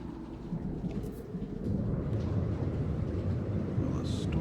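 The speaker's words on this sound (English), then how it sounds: "Weather warning. Incoming storm." A thunderstorm rolls in within the game No Man's Sky, heavy low rumbling that swells noticeably partway through and then holds as a dense, continuous roar of thunder and rain.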